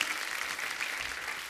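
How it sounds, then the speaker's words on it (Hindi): Audience applause in a studio comedy show, a brief dense wash of clapping from a crowd, steady and moderately loud. "पहले तो जोरदार तालियां।"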